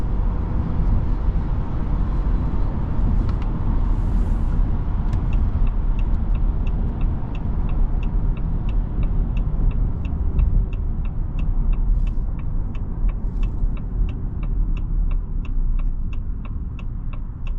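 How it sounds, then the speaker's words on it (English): Tire and road noise fills the cabin of a 2026 Ram 1500 Express pickup while driving, a steady loud low rumble throughout, with faint regular ticking above it. "The double pane window helps out quite a bit with the tire noise."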